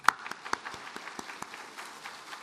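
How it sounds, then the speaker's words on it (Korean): A church congregation applauding to welcome new elders, a brief, fairly light patter of scattered claps from a modest crowd, close and without talk. "우리 먼저 박수로 한번 치고"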